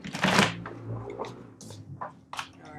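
Crisp riffling bursts of cards being shuffled, one long flurry followed by several shorter shuffles, close and fairly quiet.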